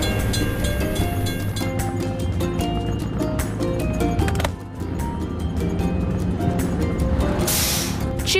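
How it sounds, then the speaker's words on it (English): A train passes a closed crossing gate in a mini loader truck video game, heard as a steady, busy rumble with rhythmic clatter and layered game sounds throughout. "We have to wait for the train to pass."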